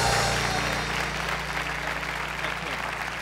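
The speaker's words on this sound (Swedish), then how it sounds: "ge Ingen en jätteenorm applåd när hon kommer för Ingen" Audience applause at a Swedish variety magic show as a volunteer woman comes up on stage, a steady, dense wash of clapping throughout, with a low hum beneath.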